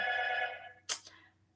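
An indoor telephone bell rings once at a moderate distance and fades out, followed by a short rustle or click.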